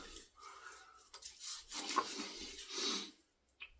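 Soft, close rubbing and bristly scraping comes from shaving soap lather being worked against the grain into about two days of stubble. It is quiet and uneven, with short strokes and pauses.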